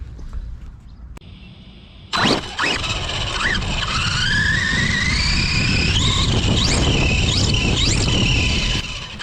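A DR10 RC car fitted with a Traxxas rear end drives hard, its electric motor whining and rising in pitch through repeated squealing revs after a sudden start, loud and close with no talking.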